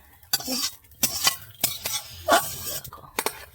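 Beetroot frying in a pan with loud repeated stirring and clinking of a metal spoon against the pan in irregular bursts over a light sizzle.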